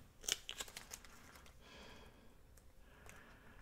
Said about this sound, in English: I'm going to cut a little of this off that's on the side here